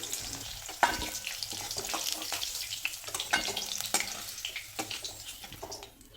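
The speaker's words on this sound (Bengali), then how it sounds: "আলুগুলোকে একটু লালচে করে ভেজে নিচ্ছি" Potatoes fry in oil in a pan ahead of a Bengali fish curry, giving a steady crackling sizzle with occasional sharper pops and stirring clicks, close and continuous, with no talk.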